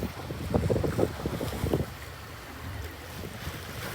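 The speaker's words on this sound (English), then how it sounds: "Still having to motor sail because there's just not enough wind to keep up speed." A sailboat motor sailing off the north end of Raiatea in French Polynesia, its engine droning low and steady beneath wind noise and the wash of waves, louder in the first two seconds and then settling into a quieter hum.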